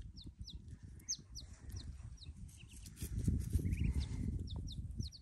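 Faint bird chirps and clucks over a low rumble of shuffling and handling noise, as if a few ducks are nearby in a quiet pen.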